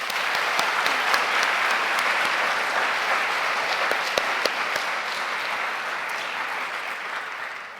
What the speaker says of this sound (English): Could we have a big round of applause for all of our supporters?